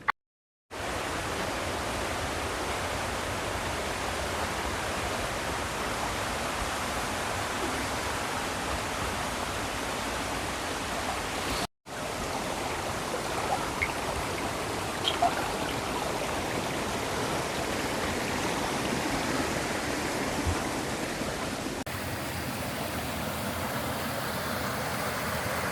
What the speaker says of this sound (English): we've been blessed with some wonderful looking waterfalls